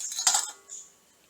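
Boiled potato dropped into a pan of drained hinchha (helencha) greens, giving a short clattering bump with a light metallic clink and a faint trailing tap afterward, close and alone.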